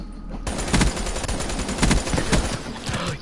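Rapid automatic gunfire in the Black Ops 3 beta multiplayer, dense overlapping bursts of shots that start abruptly and keep going with little pause, loud and close, with no talk over it.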